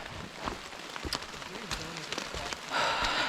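Steady rain patters on a mountain trail on Sugarloaf Mountain in foggy, stormy weather, a continuous close hiss of drops with scattered sharper taps and brief breathy sounds from the hiker.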